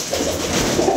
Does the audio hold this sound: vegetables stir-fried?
no